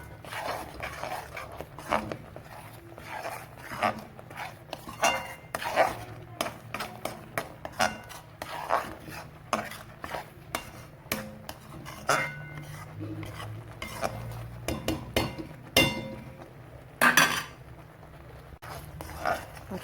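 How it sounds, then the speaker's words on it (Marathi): Masala roasting in oil in a pan while a utensil stirs it, with repeated scraping and clinking strokes at an uneven pace, moderately quiet and close, with brief sizzling between the strokes. "आला बघा मसाला भाजत आलाय थोडं थोडं तेल सुटायला"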